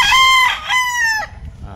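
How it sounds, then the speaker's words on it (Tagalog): Roosters crow near a rural home in San Ricardo, Southern Leyte, Philippines, one loud close cock-a-doodle-doo with a second overlapping call, then fading into quiet outdoor background. "Yung paligid na dinig po natin yung mga tilaok ng manok."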